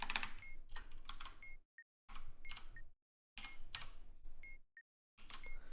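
Computer keyboard typing in Keep Talking and Nobody Explodes, heard as quiet clusters of rapid key clicks broken by brief pauses, with short electronic beeps sounding between the bursts.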